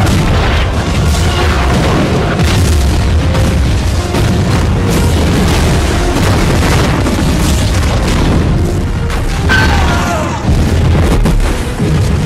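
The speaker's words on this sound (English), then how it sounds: "And then they exchange cannon fire." Cannons fire between ships in a pirate film battle at sea: a loud, continuous barrage of heavy booms and blasts, closely spaced and overlapping in a dense movie soundtrack.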